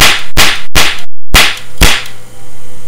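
A toy gun popping outdoors, giving several loud, sharp cracks at irregular intervals with short gaps between them, close and unaccompanied by talk.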